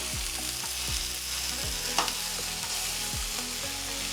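Steak fries in a pan to medium rare, with pineapple, giving a dense, steady sizzle that stays close and loud throughout. A rhythmic low motor-like pulse runs underneath, and one brief clink is heard. No one talks.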